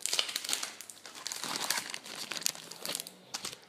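A small pouch holding eight scratch cards is handled up close, giving steady crinkly, rustling crumpling of packaging in irregular bursts throughout, with no talking.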